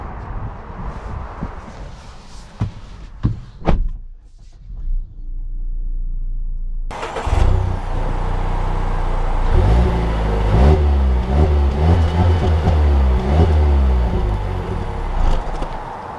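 A 2021 Mazda CX-5 Grand Touring Reserve Turbo SUV fires up after a few cabin clicks, then rumbles and revs as it pulls away, its engine note rising and shifting through gears, steady and close from inside.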